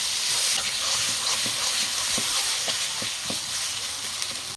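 Spice masala for a mutton curry fries in a pan with a steady, loud sizzle, while a spatula scrapes and stirs in regular strokes.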